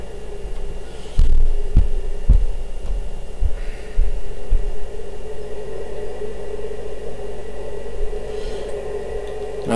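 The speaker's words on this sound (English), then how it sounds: "Like a heartbeat, innit?" A low heartbeat-like throb pulses in FortressCraft Evolved over a steady electronic hum, a few deep thumps early on that fade into the drone and then stop.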